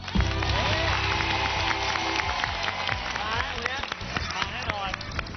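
A studio audience at a Thai TV quiz show applauding to welcome the red team of schoolchildren from a temple school. The dense clapping and crowd noise run steadily throughout under a presenter's voice and background music.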